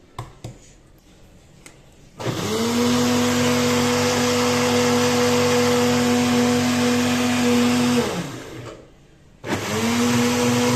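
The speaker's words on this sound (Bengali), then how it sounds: "আরেক জায়গায় নিয়ে ব্লেন্ডার করতে হইলো" Electric blender blending mango for pancake batter whirs loudly at a steady pitch for about six seconds, cuts off briefly, then starts again at the end after a few soft clicks.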